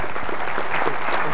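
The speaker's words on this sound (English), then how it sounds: "Give Jesus a clap offering in this." A church congregation breaks into sustained clapping as an offering of applause during a sermon, a dense steady wash of many hands that swells slightly toward the end.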